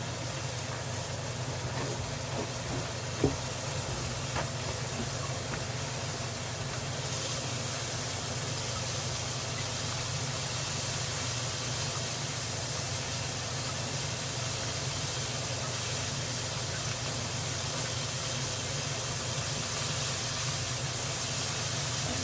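Cajun chicken and smoked sausage frying in a skillet on medium-high heat, a steady even sizzle and hiss with faint crackles throughout, close and alone.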